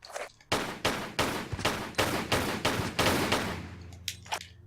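Pistol gunfire in the Tomb Raider Level Editor game: a rapid run of about nine evenly spaced shots, loud and close, followed by a few fainter trailing sounds.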